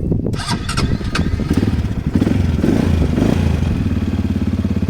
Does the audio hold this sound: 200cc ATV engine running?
yes